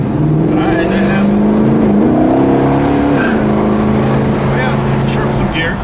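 A 1969 Dodge Charger Daytona with a 426 Hemi V8 accelerates through its gears, a loud, steady engine roar that rises in pitch and then drops at each shift, heard from inside the car.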